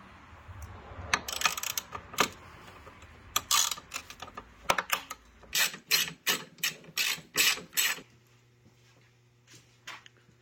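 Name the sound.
taking out a bolt with a ratchet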